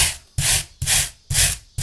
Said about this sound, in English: for tearing the foam off in big chunks, my metal brush